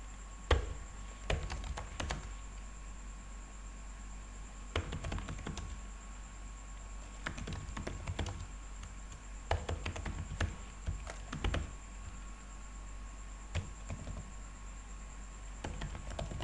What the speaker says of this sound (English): I'm going to type something in here